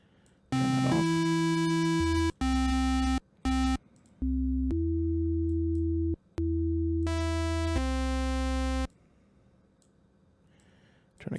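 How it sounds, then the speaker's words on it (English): Synthesizer oscillators in the Reason Thor synth play steady buzzy tones that switch on and off in blocks, with a low rumbling layer under bright, harmonic-rich upper tones, loud and sustained with abrupt cuts and short silent gaps. "let's turn on some oscillators with some different sounds"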